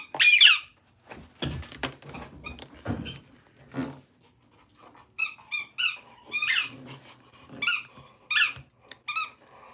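A dog named Lori, just back from an hour at the dog park, whines for attention. She gives repeated high squeaky whimpers in short uneven bursts, close to the microphone in a quiet room.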